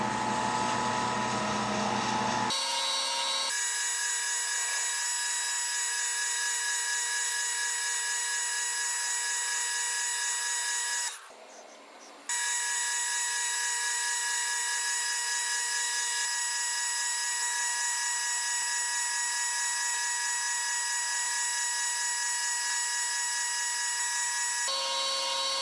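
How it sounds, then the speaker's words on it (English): Wood lathe running at about 800 RPM, spinning a pink and purple cast Sierra pen blank during polishing, a steady whirring hum with constant tones that drops out briefly near the middle, then resumes. "We've got our lathe speed turned down to about 800 RPM."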